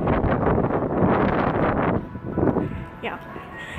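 Gusty wind buffets the microphone on a train station platform, a rough rumbling roar that eases slightly partway through. A person speaks over it.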